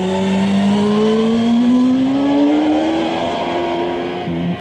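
Racing motorcycle accelerating out of a corner, a loud engine whine rising steadily in pitch for several seconds before easing off, heard alone.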